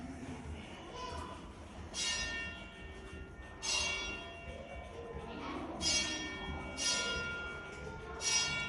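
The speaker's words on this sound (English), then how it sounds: "It says press the button once for the gong." An alarm gong at a fire museum in Cincinnati, set off by pressing a button, sounds as a run of evenly spaced metallic strikes about once a second over a low hum of room noise.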